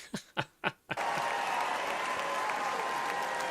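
A crowd at the 2024 Republican National Convention cheers. A few separate claps lead into a broad, continuous roar of applause and cheering that holds steady at moderate volume.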